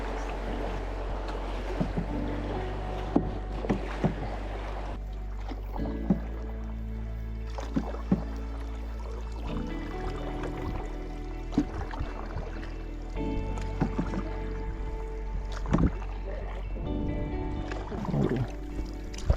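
Canoe paddling through river rapids on a wilderness trail, with paddle splashes and hull knocks over steady rushing water, moderately quiet and close.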